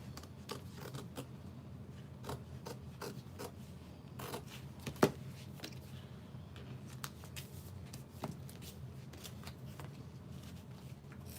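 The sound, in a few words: scissors cutting fabric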